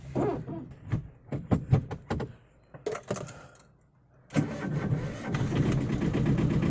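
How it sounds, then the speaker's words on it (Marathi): A car engine is cranked with several short starter bursts, then catches and settles into a steady idle, heard close up and alone. "चला चावी भेटलेला आहे गाडी स्टार्ट करूया"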